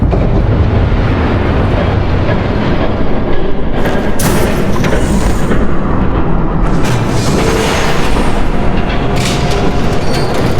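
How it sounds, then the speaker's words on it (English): A train thunders past in the video game Batman: The Telltale Series, a loud, steady rumble with rattling bursts that fills the whole stretch without talk. "There's a train coming."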